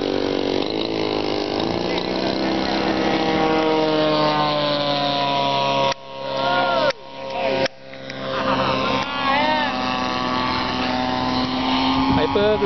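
Radio-controlled model aircraft flying at a model flying site, a steady, loud whining engine drone that briefly cuts out and returns, with a voice calling out over it.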